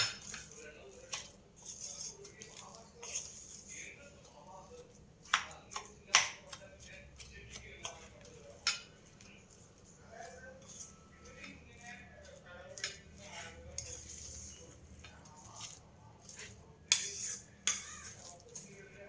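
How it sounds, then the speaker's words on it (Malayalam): A spoon clinks and scrapes against a bowl while thick batter mixed with curd instead of water is stirred close by, with irregular taps and soft wet mixing sounds. "വെള്ളത്തിന് പകരമാണ് തൈര് ഒഴിച്ചിട്ട് കൂട്ടിയെടുക്കുന്നത്"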